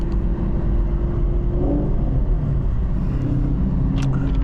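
A 2019 Chevrolet Camaro SS 1LE drifts in a snowstorm at about 35 mph. Its engine drones steadily and loudly from inside the cabin, with a slight rise in pitch partway through.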